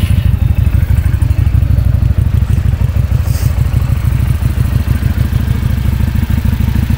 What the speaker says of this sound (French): Ouais, vas-y Dimitri, démarre-nous un petit peu la machine, comme ça on va pouvoir se faire une idée du son.